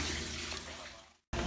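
Water is poured into a pot to be boiled for sinigang, a faint, brief splashing stream that tapers off, stops for a moment, then briefly resumes.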